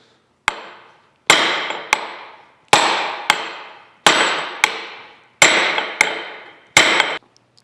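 Nine sharp, loud hammer blows strike a Chattanooga No. 14 cane mill during disassembly, each metallic clang ringing out and decaying, falling in uneven pairs and singles with short pauses between them.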